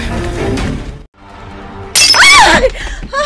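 A drinking glass shatters after a short pause, a sudden bright crash with ringing shards, preceded by a brief stretch of other sound and followed by trailing clinks.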